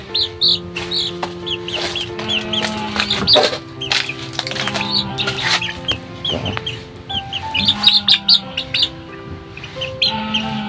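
Chicks chirp loudly and insistently close up, shrill peeps repeating over a busy background of clucking fowl.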